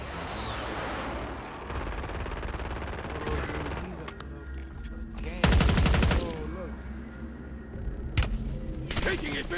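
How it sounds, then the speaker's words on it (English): Gunfire in a military video game: bursts of machine-gun fire and scattered shots, with one loud dense burst in the middle and further sharp reports near the end, over a low rumbling background. "Taking effective fire."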